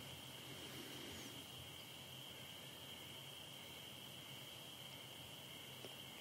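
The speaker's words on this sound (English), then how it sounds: "It's like the noise of the crickets right now." Crickets chirp in a constant, faint high trill over quiet background hiss, with no voices.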